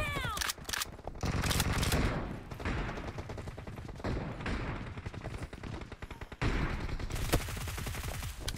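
Gunfire in PUBG Mobile, with shotgun fire among it: loud bursts and rapid volleys of shots in irregular clusters, coming close together across the stretch with short gaps between them.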